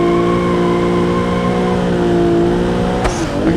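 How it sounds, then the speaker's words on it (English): A car in the driving game BeamNG doing a clutch kick, its engine held at a loud, sustained high-rev whine as the wheels spin at full speed, with a sharp shift in tone near the end. "So basically just clutch and then let go. So basically the wheels just spin, you know, full speed."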